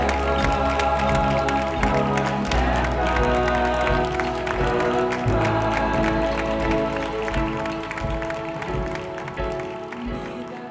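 An audience claps for the magician Mago Esteban during his stage show, with dense and continuous applause at full volume throughout before it eases slightly near the end.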